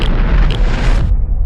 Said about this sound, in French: ils assistent à la première explosion nucléaire au monde